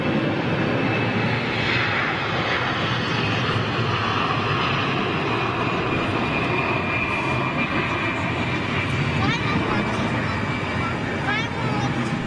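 A Nouvelle Air jet with CFM56 engines departs with a loud, steady roar and broadband rush that holds throughout, with a voice talking over it at times.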